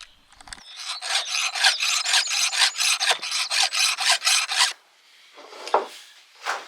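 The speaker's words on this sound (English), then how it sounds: "I need to do this regularly, the sharpening of the teeth of the chainsaw." A metal file rasps rhythmically across chainsaw teeth, about a dozen quick strokes in a row, then a pause and a few scattered scrapes.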